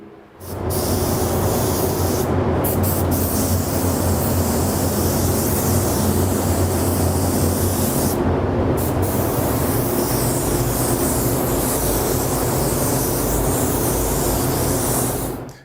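A spray booth runs loud and steady with a broadband hiss and low hum while an airbrush lays a light coat of Createx paint on a Tiki figure, continuous for the whole stretch, with no talking.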